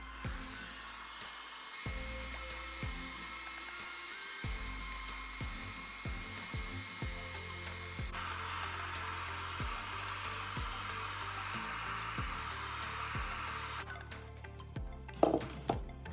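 A hair dryer running on high speed with low heat blows a steady, close whoosh that holds for about fourteen seconds, with faint clicks and handling bumps beneath, then cuts off near the end.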